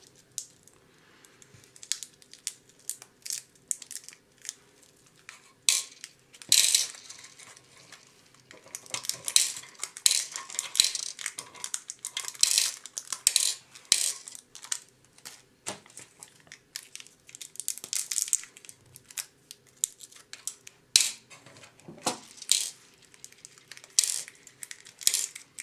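Small black screws are handled and sorted during a Millennium Falcon model build, giving sparse, light metallic clicks, rattles and clinks at close range, with quiet gaps between them.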